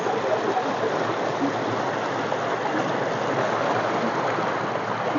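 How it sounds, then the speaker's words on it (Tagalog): A strong river current rushes past, a steady broadband roar of flowing water heard close and unbroken, with no voices. "Malakas ng agos mga kaibigan."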